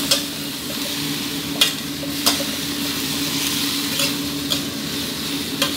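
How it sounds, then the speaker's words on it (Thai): Cabbage stir-fried with minced pork in a hot pan, a steady close sizzle punctuated by periodic sharp scrapes and taps of a spatula every second or so, with no talking. "กระหล่ำปลีนี่เราผัดได้ตามความชอบนะครับใครชอบทานให้สุกนิ่มหน่อยก็ผัดนานนิดนึงก็ได้ครับ"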